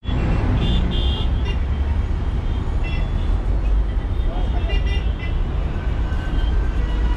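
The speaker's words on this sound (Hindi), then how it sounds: "ये देखो भाई, कायरो के ट्रैफिक चेक करो" Dense street traffic in Cairo, Egypt: a loud, continuous rumble of engines and passing vehicles with scattered horn toots, and someone talking over the din.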